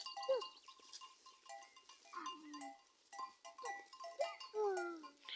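Sheep on a farm bleat repeatedly at close range, several wavering calls coming one after another with a faint bell clinking in the background.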